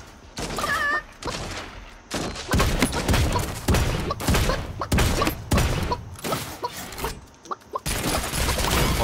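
Shotgun blasts ring out in the battle royale game Realm Royale, a loud, close series of booming shots with brief gaps between bursts.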